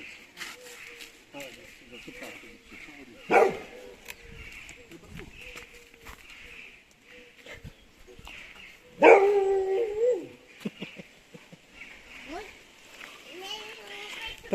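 A small dog tied up outdoors barks in a few sharp bursts, the loudest around the middle, with whimpers and yips between them and people talking nearby.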